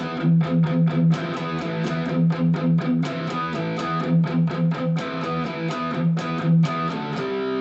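Heavily distorted electric guitar plays a chugging riff, ringing chords broken by tight muted palm-muted hits in a steady rhythm.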